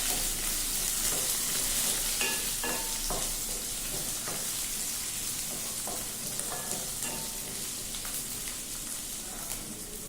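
Whole cumin, black pepper, a small onion, garlic and ginger frying in hot oil in a kadhai: a steady dense sizzle with occasional stirring clatter, close and continuous throughout with no talking.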